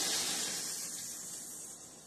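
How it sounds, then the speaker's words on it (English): Grape jelly sizzling in a hot pan while bread toasts, a steady close hiss that fades slightly over about two seconds, with no talking. "The grape jelly's going sizzle,"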